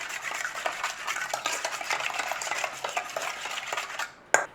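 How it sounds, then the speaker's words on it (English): A spoon stirs a sticky pork marinade with white pepper in a bowl, quick wet scraping and clinking strokes in a steady run, ending with a sharp clack. "give that a mix in, and that's our sticky marinade for our pork"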